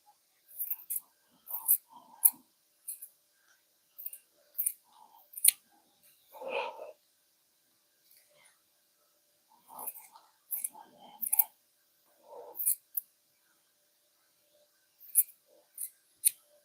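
Sharp snips of scissors trimming plush doll material, crisp close cuts in uneven bursts separated by silent pauses, with soft whispering sounds in between.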